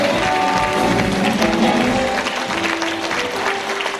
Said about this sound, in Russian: Встречайте, пожалуйста, бурными аплодисментами.